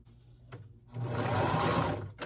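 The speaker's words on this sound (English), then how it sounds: "When I come to the end, back stitch, I'm going to do it again." A sewing machine back stitching a quilt top, a short stop-start burst of rapid needle hammering that swells loud and close, then cuts off, with no voice over it.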